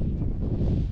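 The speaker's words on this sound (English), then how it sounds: "It is a wee bit windy here, but look, we're right out on the moor" Wind blowing across an open Scottish moor near an abandoned farm in a glen, a steady, loud low rumble buffeting the microphone for a second, with no voices.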